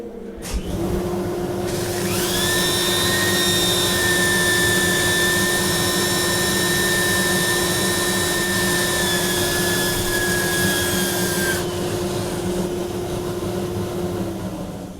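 A power sander whirs against a wooden bowl spinning on a lathe, starting up, holding a loud steady whine for about ten seconds, then winding down, with the lathe's hum running underneath throughout.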